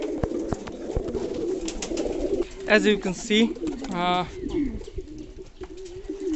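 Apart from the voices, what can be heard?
pigeons cooing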